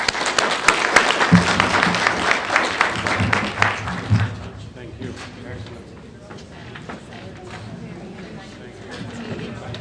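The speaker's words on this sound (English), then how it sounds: "a big applause for them" A crowd breaks into applause, loud and dense for the first few seconds, then thinning into scattered clapping with some background murmur.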